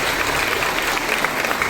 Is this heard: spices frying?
no